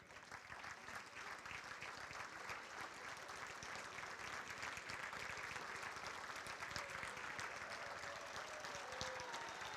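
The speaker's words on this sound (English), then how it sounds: "please stand for a nice round of applause" Banquet guests give steady, sustained applause for standing student athletes at a university scholarship dinner, a dense even roar of many hands heard faintly from a distance for the full stretch.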